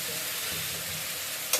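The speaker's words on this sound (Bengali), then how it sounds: "ভালো করে কষিয়ে নিচ্ছি।" Meat curry sizzles steadily while being sautéed in a pan, with a short clink near the end.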